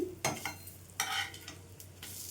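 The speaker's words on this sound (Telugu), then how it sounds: "రెండో వైపు కూడా సేమ్ ఇదే విధంగా వేయించుకోవాలండి" Ragi flour and egg snacks fry in a pan, a soft steady sizzle broken by a few sharp scraping bursts as they are flipped, close and fairly quiet, with no voices.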